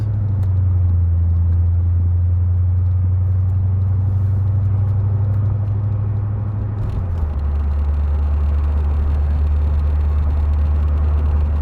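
A C4 Corvette with a rebuilt transmission drives on a road test, its engine a loud steady low rumble that drops in pitch partway through as a gear change settles in, with no talk.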